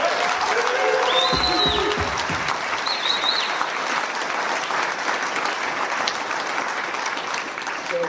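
Steady applause from an audience at a Marine Corps Birthday Ball ceremony fills the whole stretch, dense clapping with a brief voice or cheer near the start, tapering slightly at the end.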